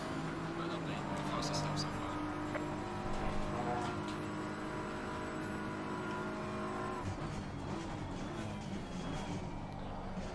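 An Audi R8 race car engine drones in the sim racing game ACC, a sustained loud steady roar with shifting pitch and other cars around, while someone talks over it.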